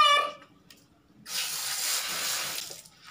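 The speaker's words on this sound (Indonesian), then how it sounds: "cuci tangan dengan air mengalir" Tap water runs into a sink for handwashing, a steady hissing stream that starts after a short pause and keeps flowing to the end, fairly quiet and without talk.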